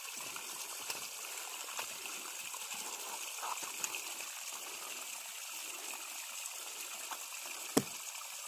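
A forest stream flows steadily with a continuous close rushing and trickling, while hands are washed in the water, with a few small splashes and one sharp knock near the end.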